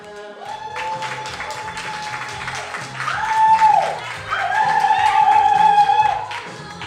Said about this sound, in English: Give a big round of applause, y'all.